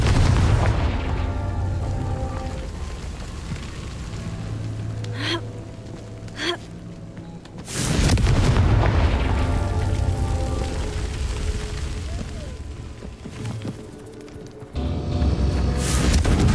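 Magic spell blasts from Hogwarts Legacy combat: heavy booming explosions land at intervals over a continuous rumbling game background, with sharp bursts around the middle and a loud surge near the end.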